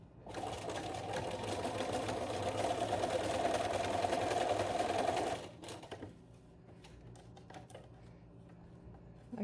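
Sewing machine stitching a fabric face mask, running as a fast, steady mechanical whir close by for several seconds, then stopping abruptly into a quiet room with a few faint clicks.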